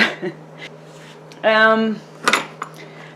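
Big kitchen knives shuffled in a home kitchen drawer: a short bright metallic clatter and ringing scrape, followed by a few lighter clinks and taps, close up, with faint room noise.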